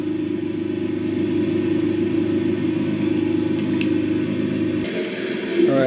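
A car with a 2.5 liter V6, started for the first time, runs in a steady low idle rumble, close and loud, then the engine cuts off near the end with no talking.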